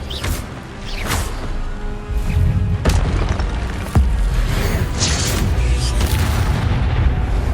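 Expelliarmus spell effects in Hogwarts Legacy fire as loud, repeated booming bursts with sharp attacks every second or so, layered over dense rumbling game combat noise.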